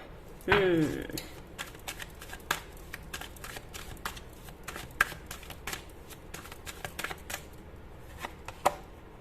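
Tarot cards shuffled in the hands, starting with a loud riffle and then continuing as a long run of soft, quick flicks and snaps. The shuffling is close and moderately loud.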